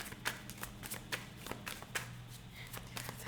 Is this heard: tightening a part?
no